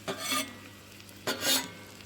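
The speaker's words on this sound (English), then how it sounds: "So get them fried off." Onion being fried off in a pan for a Bombay street food sandwich, two bursts of sizzling and stirring separated by a quieter stretch of steady frying.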